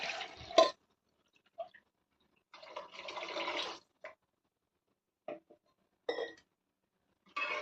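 Water poured into rasam in a cooking pot, heard as several short, close splashing bursts separated by quiet gaps, with no voices.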